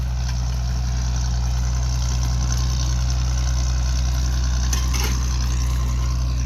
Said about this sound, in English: I've been waiting for such a long time to get the tractor here.